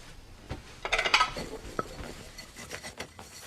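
Metal utensils and dishes clink and scrape together close by, a cluster of bright rattles early on, then scattered lighter taps, with no talk.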